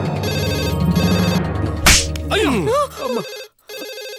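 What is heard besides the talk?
phone ringing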